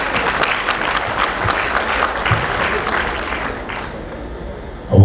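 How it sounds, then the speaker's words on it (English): A convention crowd claps steadily in sustained, fairly loud applause for several seconds, then it tapers off and ends with a low thump. "round of applause for yourselves."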